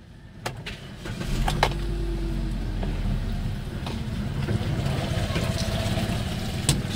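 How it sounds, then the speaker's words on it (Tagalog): Hyundai Accent car engine cranking and catching, a few sharp clicks and a brief starter burst, then a steady low idle rumble running on close by. "So start muna natin itong makina."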